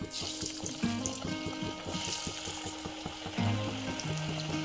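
Vegetable chops frying in hot oil, a steady crackling sizzle with a low tonal hum running through it and a few light bumps, nothing spoken.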